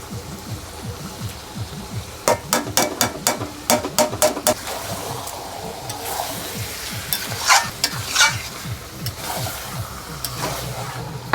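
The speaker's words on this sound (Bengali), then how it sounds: "শুকনো লঙ্কা কাঁচা লঙ্কা ভিজিয়ে বেটে রেখেছিলাম মশলাটা দিয়ে দিচ্ছি" Ground paste of soaked dried and green chilies hits hot oil in a pan, sizzling steadily, with a run of sharp stirring scrapes early on and more spatula clatter later, fairly close.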